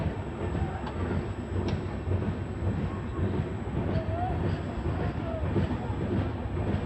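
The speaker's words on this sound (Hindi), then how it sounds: "सामने से क्रॉस हो रही है सीमांचल एक्सप्रेस, जो कि आनंद विहार से जोग बनी जाती है।" Seemanchal Express train running past on the adjacent track, heard from inside another passenger train. A continuous, loud rumbling roar of wheels and carriages with wind noise.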